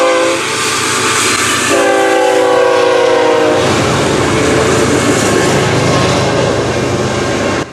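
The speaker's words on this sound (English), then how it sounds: "we then came across a westbound Bnsf intermodal train" A westbound BNSF intermodal freight train at a road crossing near Williamsfield, Illinois sounds loud, sustained horn blasts, then its wheels rumble and clatter close by as the cars roll past.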